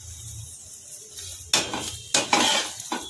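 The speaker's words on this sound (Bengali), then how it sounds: "এই ভাজা ভাজা করে আমি সবগুলো করে নেব।" A spatula scrapes and clatters against a pan while bottle gourd paratha fries, with three loud metallic scraping bursts over a faint sizzle.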